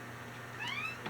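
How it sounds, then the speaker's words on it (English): Domestic cat giving one short, faint meow with a rising-then-falling pitch, heard alone and from slightly off, over a quiet background hum. "If you heard a meow, that's my cat meowing."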